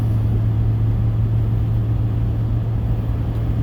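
Steady car interior drone on a commute to work, a continuous low engine and road rumble with an even hum and no talk.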